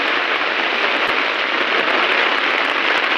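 Rain falls on a muddy paddy field at Devgad, Sindhudurg, a dense, even hiss of drops that stays loud and continuous throughout, with scattered sharper patters and no talk.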